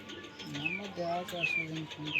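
Pigeons kept for sale coo close by in soft, rolling, repeated calls, with a few higher chirps mixed in and people talking quietly in the background.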